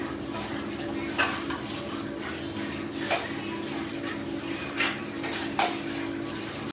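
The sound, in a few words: washing dishes after dinner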